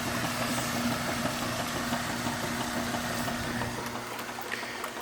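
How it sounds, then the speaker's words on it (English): The pump of a used Kenmore washing machine runs without pumping out, giving a steady, close mechanical hum with a low drone throughout. "Pump is moving. It's not pumping out, but it's doing its thing."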